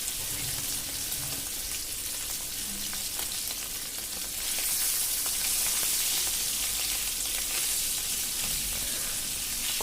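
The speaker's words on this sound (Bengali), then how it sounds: "এখন কড়াইতে তেল দিয়ে তেল গরম হয়ে আসলে 4 পিস মাছ দিয়ে দিব" Four hilsa fish pieces, rubbed with salt and turmeric, fry in hot oil in a wok, giving a steady, fairly loud sizzle and hiss that grows fuller midway, with no voices.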